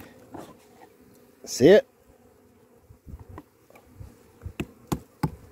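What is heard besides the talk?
bees buzzing around a syrup feeder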